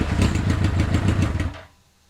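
A Hayabusa engine fitted in a Can-Am X3 build fires up and runs with a loud, rapid, uneven mechanical pulse close by, then cuts out abruptly after about a second and a half.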